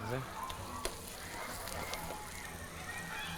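Brown butter crackling and sizzling in a pan with rosemary, sage and lemon peel added while a veal chop cooks; a steady, dense crackle runs throughout with a few sharper pops.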